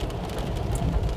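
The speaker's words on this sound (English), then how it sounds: "Why am I out driving in the rain today on a Sunday morning" Steady rain drumming on a car while driving on a Sunday morning, a dense continuous wash of droplets with low road rumble, close and even throughout, with no talking.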